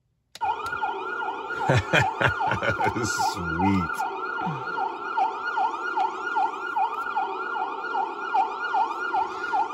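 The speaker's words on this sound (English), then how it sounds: "Let's turn on our siren." A small electronic siren sound module on a custom Tamiya Ford Torino TA02 RC car wails in a steady repeating up-and-down pattern, close and fairly loud, with a brief voice and some clicking near the start.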